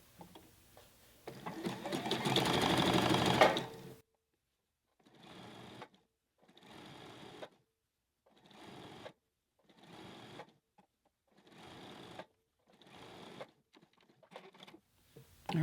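A sewing machine stitches the sleeve seam of a raglan T-shirt, first in one long loud run, then in a series of short even bursts separated by pauses, close up.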